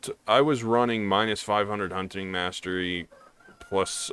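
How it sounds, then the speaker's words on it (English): A rooster crows outside in the background, faint and partly masked under a man's close, steady talk. "I don't know if you can hear the rooster in the background."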